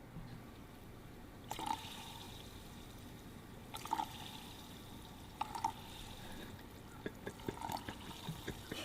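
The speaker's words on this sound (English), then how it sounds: "now we have to add water" Water is poured into a container to dissolve beer powder, giving a soft continuous trickle broken by a few brief splashes and clinks, fairly quiet with no talking.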